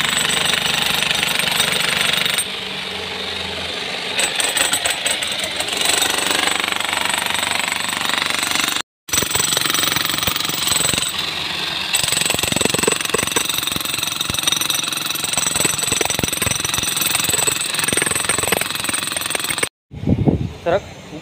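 A jackhammer breaker machine pounds a reinforced concrete beam in a footing pit, loud rapid hammering running nearly continuously with a few brief pauses and shifts in tone, while people talk underneath.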